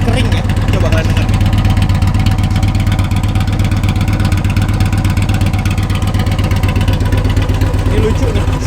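A big Harley or Victory motorcycle engine running after start-up, a dense, steady, dry-sounding idle close by and filling the clip, with no clear talk over it.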